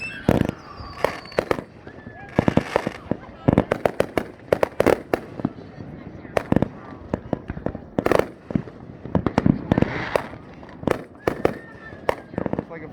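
Fireworks display in Bunker Hill, West Virginia, with a rapid, nonstop series of loud bangs and crackling bursts, some near and sharp, others more distant, with people talking among the explosions.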